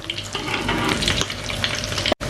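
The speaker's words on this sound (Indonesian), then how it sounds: "Kita goreng sampai coklat keemasan kayak gini." Potato croquettes fry in hot oil, giving a dense, steady crackle and sizzle close by with no talk.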